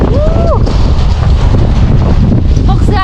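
Strong wind buffeting the microphone at a morning market in Xieng Khouang, Laos, a loud continuous roar throughout with a couple of faint whistling tones briefly cutting through.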